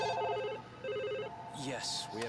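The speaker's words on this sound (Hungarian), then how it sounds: "Mindenhol csörög a telefon." Telephone ringing in the video game Lost Judgment: an electronic trilling ring sounds in two bursts, followed by brief speech-like sounds and other game noises.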